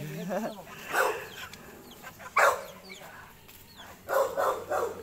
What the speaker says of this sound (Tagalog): Galit-galit yung mga aso